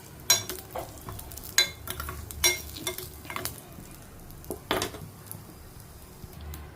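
Curry leaves frying in a pan until crisp for a Telugu evening snack, heard as a steady low sizzle broken by several sharp stirring scrapes and clinks of a spoon against the pot.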